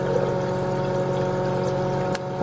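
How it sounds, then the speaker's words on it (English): Steady rushing hiss of water refilling a Kohler toilet tank with a leaking canister-style flush valve seal, continuous and close, with a brief click near the end. "The water leaks, and then the tank has to fill up again."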